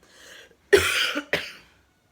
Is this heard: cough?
yes